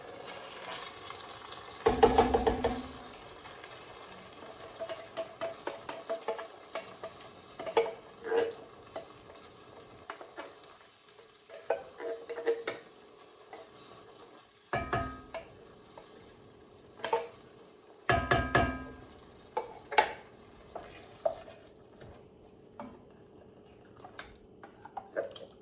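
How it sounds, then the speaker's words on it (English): Shallots, basil and San Marzano tomatoes cook in a pot, giving soft intermittent sizzling with stirring scrapes and a few louder clanks, moderately close and without talk. "After the shallots and the basil has had a chance to cook down for a little bit, we're gonna add some of these San Marzano tomatoes and let that cook down for a bit."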